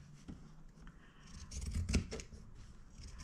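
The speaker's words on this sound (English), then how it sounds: "I am going to trim this about a quarter of an inch from the seam" Scissors snip through fabric, trimming the seam allowance of a little girl's Christmas dress, a few soft cutting strokes building to a louder, close snip near the middle, with no talking.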